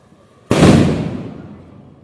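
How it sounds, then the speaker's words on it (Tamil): A large atom bomb firecracker detonates during Diwali celebrations with a single sudden, loud close blast, followed by a long fading rumble and debris wash over about a second and a half. "பெரிய சைஸ் ஆட்டம் பாம் நம்ம வைக்கிறோம்."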